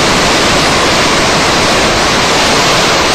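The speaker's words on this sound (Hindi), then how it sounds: "घर के पास वेग से बहते पानी ने सबको डरा कर रख दिया।" Floodwater surges past houses in Odisha after storm-driven torrential rain, a loud, dense, unbroken roar of rushing water filling the whole clip without pause.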